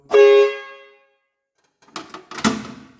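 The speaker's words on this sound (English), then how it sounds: "I now have an air horn in this thing." One short, loud air horn blast close by from a garden tractor, then a pause and a few clunks and rattles.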